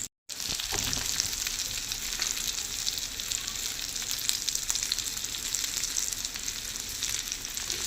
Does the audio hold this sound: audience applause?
no